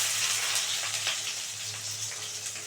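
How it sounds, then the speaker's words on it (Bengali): Chopped onions frying in oil with black cumin give a steady, close hissing sizzle that holds evenly throughout. "পেঁয়াজটা একটু ভাজা ভাজা হোক।"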